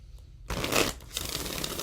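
Tarot cards riffle and flutter in a loud burst after a brief quiet start, then continue as a softer, steady shuffling rustle.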